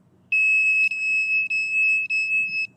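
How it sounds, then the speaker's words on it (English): A detector sounds its electronic alarm: a loud, steady high-pitched tone broken into about four long beeps by brief gaps, with nothing else heard. "And you can hear the alarm there."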